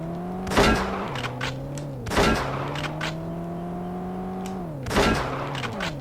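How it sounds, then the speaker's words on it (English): Three loud gunshot bursts from World's Scariest Police Chases ring out at roadside targets, spaced about two seconds apart over a steady rising and falling engine drone. "now shoot all the targets along the road"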